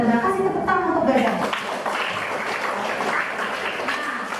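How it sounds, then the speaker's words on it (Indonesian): A classroom gives a student a round of applause, steady clapping that starts under a speaking voice and then continues on its own for several seconds. "Kasih tepuk tangan untuk Gaza."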